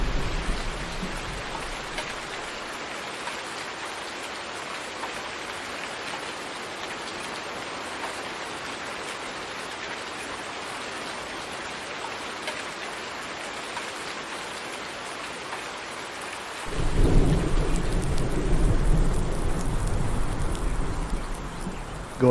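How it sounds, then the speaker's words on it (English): Rain in a farming video game: steady hiss of rainfall throughout, swelling into a louder, heavier downpour with a low rumble near the end. "There's louder rain and thunder now, but it just seems overlaid on the screen instead of being part of the environment."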